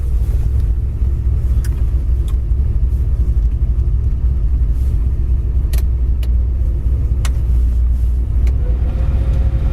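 A warmed-up 1971 Chevelle Heavy Chevy engine idles with a steady, deep rumble close to the mic, punctuated by a few faint ticks and clicks, with no talking.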